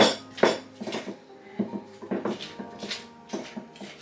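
A cooking pot clatters and knocks against a hard surface in a home kitchen while Ghanaian fetri toto soup is being made, with repeated irregular metallic bangs and scrapes heard up close.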